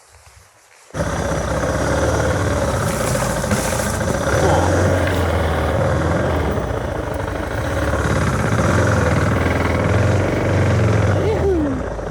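An adventure motorcycle revs and rumbles loudly nearby as it is pushed through rough ground at a wild riverside campsite, a continuous throaty engine roar that starts abruptly and holds for about eleven seconds with faint voices beneath.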